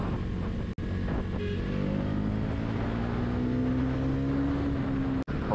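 A Bajaj Pulsar NS 400 Z motorcycle revs under throttle, its engine tone climbing steadily higher over a few seconds above a constant road rumble, then easing off.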